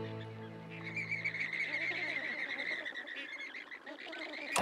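Pink wading birds with yellow legs and orange beaks call as they land on the Bolivian Altiplano, a busy overlapping chorus of honking, nasal cries that carries on steadily at moderate distance with no talk.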